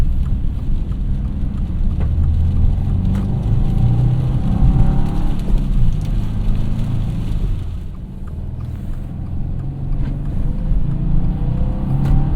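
A 2024 Subaru WRX TR idles after a cold start, its exhaust giving a steady, loud low rumble that holds throughout, dips briefly partway, then settles back.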